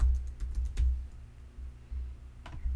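Rapid keystrokes clatter on a computer keyboard, a close, quick run of light clicks that trails into a brief pause before a few final taps.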